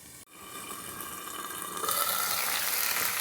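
Moong dal pizza cooking covered in a pan over a low flame gives a steady, close sizzling hiss that swells slightly louder partway through, after a brief dip at the start.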